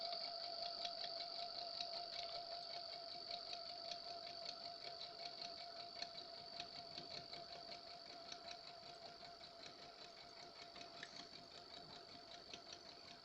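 A sewing machine stitches two quilt squares together at a steady, fast rate. Its needle rattles in a rapid even rhythm and a faint motor whine hums underneath, quiet and constant with no speech.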